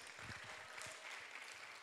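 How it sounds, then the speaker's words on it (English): Applause for presenters at a graduation ceremony, a steady wash of clapping from a crowd, faint and distant, holding evenly for under two seconds. "Another round of applause to these wonderful presenters"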